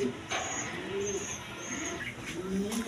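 High-flying Giribaz pigeons coo softly in short, repeated low calls, faint and fairly close, with no talk over them.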